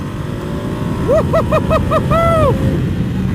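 A Ducati motorcycle engine under way on a ride, revving in a quick series of short rising bursts as gears shift, then one longer smooth pull, over steady wind and road rumble.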